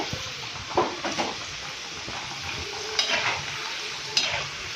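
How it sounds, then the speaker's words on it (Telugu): Okra pieces fry in a pan, a steady close sizzle broken by a few scraping, clattering stirs of a spatula against the metal; no one speaks. "మనము బెండి ఇలా ఫ్రై చేసుకున్నాము"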